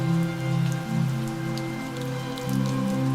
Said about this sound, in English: The weather was pretty cold and rainy